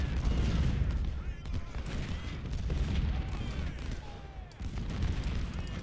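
Cannon and musket fire from the Ultimate General: Civil War strategy game. Booms and crackling volleys keep up a continuous battle roar, with whistling shells sweeping through.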